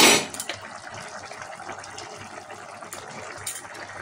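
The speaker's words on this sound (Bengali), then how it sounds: "এবার একটু ভালো করে ফুটতে দিতে হবে।" Sukto, a Bengali vegetable curry, bubbles in a covered pot, giving a soft, continuous watery simmer after a brief louder gush at the start.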